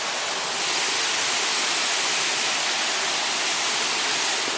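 Waterfall at a spot called Hell's Hole, a loud, constant broadband roar of falling water filling the whole stretch without pause or voices.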